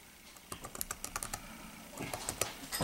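Rapid keystrokes on a computer keyboard as an encryption passphrase is typed during a Linux install, close and clear, in quick irregular bursts with short pauses and no talking.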